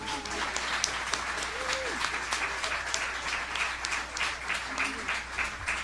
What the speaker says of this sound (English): Please give a wonderful round of applause to Ridley Pearson